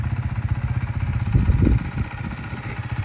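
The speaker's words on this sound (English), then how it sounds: "It's quite a quiet bike, you might like that, but if you don't, as I said, we can help you out by changing the exhaust." A 2019 Honda CB125R learner-legal 125cc motorcycle on its quiet stock exhaust runs steadily up close, a low throbbing rumble that swells briefly midway and continues without talk.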